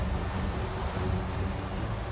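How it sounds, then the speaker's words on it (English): Water and waves in the Total War: Warhammer 2 video game, a steady, even rush of surf-like noise with no break and no voices. "Lots of water noise."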